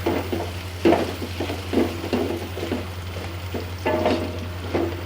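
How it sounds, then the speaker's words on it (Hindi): Shredded meat for haleem frying in a pot, with repeated stirring scrapes and clatter over a steady sizzle, close and moderately loud, no talking. "इस गोश्त को हमने इसमें अच्छी तरह से फ्राई कर लेना है।"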